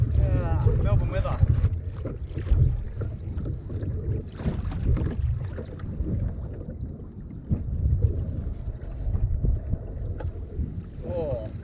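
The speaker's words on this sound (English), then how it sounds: "Hopefully this wind dies down a bit." Steady, loud wind buffets the microphone outdoors while fishing in Melbourne, a low roaring rumble running throughout, with brief bits of voice near the start and end.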